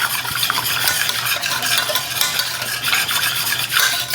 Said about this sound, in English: I'm gonna give that a little stir.